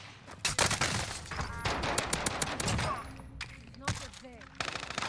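Gunfire rattles in Call of Duty: Warzone, dense bursts of automatic shots that come close and loud at first, then return in short spurts between pauses.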